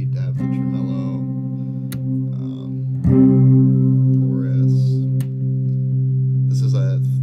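An electric guitar plays through a tremolo effect pedal, sustained notes pulsing and wavering with fresh plucks and some string noise, close and fairly loud throughout.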